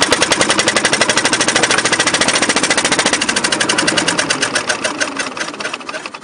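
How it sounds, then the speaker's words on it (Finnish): A small engine fires up and runs, settling into a rapid, steady putt-putt of sharp exhaust pulses, loud and close with nothing else heard. "Jos hyvin käy, niin röpsytys rupeaa kuulumaan."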